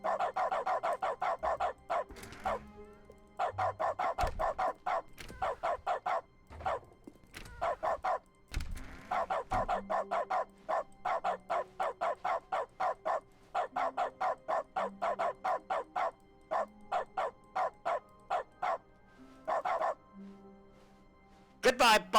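A dog in the video game The Stanley Parable barks in fast, repeated bursts of yips and bow-wows with short pauses, loud and close, alongside occasional thunks.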